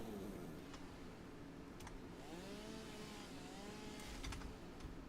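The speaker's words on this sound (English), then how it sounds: "My area of effect chainsaw. Love it." An area-of-effect chainsaw from the video game Satisfactory runs steadily with a constant buzzing drone, holding a level whine throughout with a few sharp ticking clicks layered on top.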